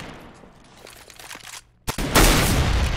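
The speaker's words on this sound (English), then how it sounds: "That's a huge grenade onto Ballard, but he picks somebody up with the SCAR" Gunfire and a grenade blast in a competitive first-person shooter match with a SCAR rifle, as dense rattling bursts give way after a brief lull to a loud sustained explosive roar.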